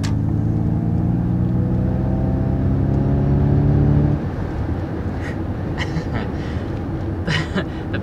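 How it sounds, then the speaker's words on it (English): A 2021 Ford Mustang Mach-E electric SUV plays a simulated V8 engine sound, a steady low humming drone with rising tones that cuts off midway, leaving road rumble and wind noise inside the car. "The fact that it's playing a V8 sound effect is really hilarious to me."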